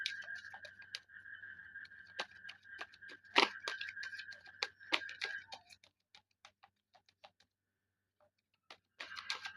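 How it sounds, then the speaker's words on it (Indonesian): Frogs calling outdoors in the background, a sustained buzzing trill with scattered sharp clicking croaks that thin out into sparse ticks before picking up again, faint and close with no voices. "Backsoundnya itu ada suara kodok ya."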